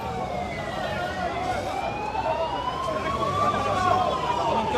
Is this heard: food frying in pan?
no